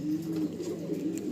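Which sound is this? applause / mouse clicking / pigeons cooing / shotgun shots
pigeons cooing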